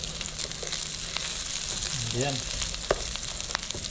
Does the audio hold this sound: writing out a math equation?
no